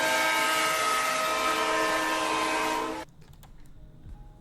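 A train horn sound effect plays on a livestream, one loud sustained blast lasting about three seconds before cutting off abruptly into quiet room noise.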